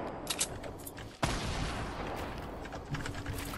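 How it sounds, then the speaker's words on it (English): Rapid gunfire rattles from a player's weapon in the Fortnite battle royale game, a dense sustained burst following a few lighter shots, loud and close with no voices. "I'm shooting up here"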